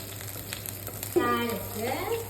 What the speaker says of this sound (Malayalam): എന്നിട്ട് ക്യാരറ്റ്, പച്ചമുളകല്ലേ, എല്ലാം ഇങ്ങനെ ഇടണം.